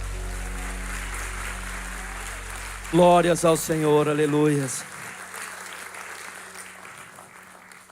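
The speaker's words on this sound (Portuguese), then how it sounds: "Dê uma salva de palmas ao Senhor Jesus." Church congregation applauding during a worship service, a steady wash of clapping throughout with a loud voice calling out praise partway through.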